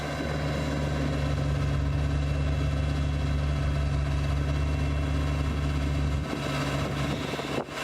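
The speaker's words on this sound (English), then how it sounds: "the tractor gets to a point when you really get that whole blower full of this kind of snow" A tractor-driven snow blower's heavy engine drones steadily at close range while clearing snow, with a deep, constant hum, easing slightly near the end; no voices.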